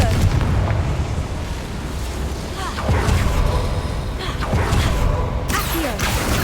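Confringo blasting spell in the Hogwarts Legacy video game, loud booming explosions with rumbling, crackling bursts and whooshes layered over dense combat noise, while a voice speaks over the action.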